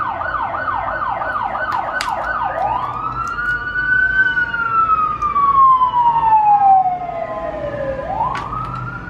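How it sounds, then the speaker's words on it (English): A siren wails loudly, first in rapid yelping sweeps, then in a long rising and falling tone that fades as the vehicle passes over steady traffic noise. "That is a police car passing by."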